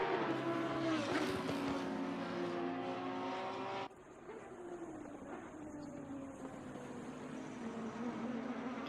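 A Lamborghini GT3 race car engine in a racing game at Barcelona, a loud high revving whine that shifts pitch through gear changes, dropping abruptly as the camera view changes, then a steadier, softer engine drone.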